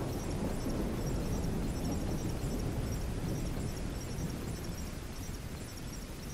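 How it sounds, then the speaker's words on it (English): Heavy, continuous booming blasts from a rogue artillery turret in a shooter video game, a dense wall of rumbling explosions sustained loud throughout before easing slightly near the end. "Rogue artillery turret."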